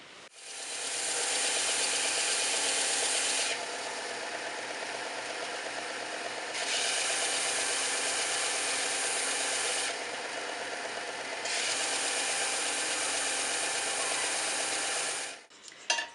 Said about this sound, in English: holding the bit of wood onto the sander, gently moving it backwards and forwards